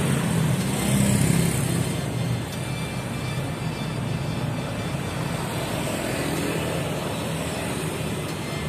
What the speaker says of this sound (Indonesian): Sana ada bus jalan ya.